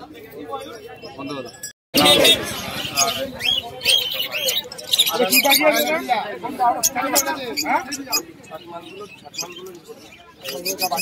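Pigeons coo and flutter at a busy village livestock market, birds close by amid a loud crowd and someone talking over them.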